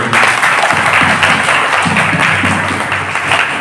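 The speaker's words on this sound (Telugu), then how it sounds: "కాబట్టి మొదటిసారి గట్టిగా చప్పట్లు కొట్టుకోండి" Loud clapping from a church congregation at a 25th priestly jubilee celebration for Rev. Fr. Thomas SDB in Kamalapuram parish, a dense, close, sustained burst of many hands with faint murmurs underneath.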